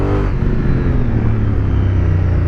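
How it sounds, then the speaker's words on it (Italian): A Honda Africa Twin 1000 or Triumph Tiger 800 2018 motorcycle engine roars steadily up close, its pitch dropping briefly as a quick-shifter gear change cuts in without a pause. "Sentite la cambiata del quick shift"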